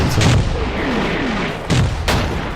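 Mortar shells explode in the wartime strategy game Combat Mission, a loud continuous rumble broken by several heavy booms near the start and end.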